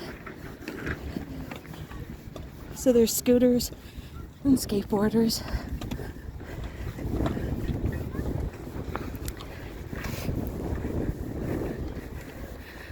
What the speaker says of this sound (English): Oh, the wind. Stop it.